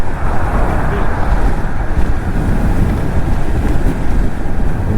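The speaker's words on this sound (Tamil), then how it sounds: "விண்டு பிளாஸ்ட் அதிகமாக இருக்குது." Strong wind buffeting a helmet microphone while riding a Honda Hornet 2.0 motorcycle on a long highway trip, a loud, steady low roar that fills the whole stretch without pause.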